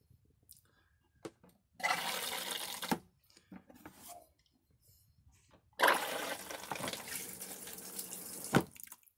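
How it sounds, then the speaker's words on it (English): A toilet flushing in a small bed-and-breakfast bathroom: two separate rushing-water surges a few seconds apart, close and moderately loud, with quiet gaps and light trickling between. "The toilet flush is right here."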